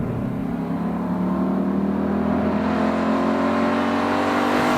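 A Ford Mustang Boss 302 V8 engine roars loudly and steadily under hard acceleration, its pitch climbing through the revs from inside the car with no talking.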